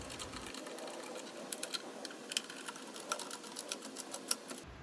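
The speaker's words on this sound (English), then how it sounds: "Now I'm going to just run these 7 bolts down, starting in the middle and working outwards just to get it snug." A tool runs the seven intake manifold plenum bolts down on a 3.6L Pentastar V6, giving a faint, rapid mechanical whir with small ticking clicks, close and quiet.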